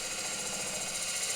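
Woodcut ProForme hollowing tool gently cutting into wood on a lathe, a steady continuous broadband rasp with a constant machine hum underneath, close and even throughout.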